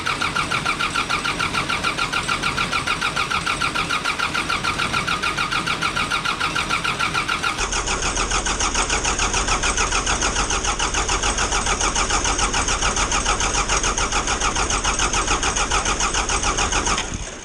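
An old diesel generator cranking with a rapid rhythmic chug, then catching and running at a loud, steady, even idle until it cuts off at the end, close by with no talk.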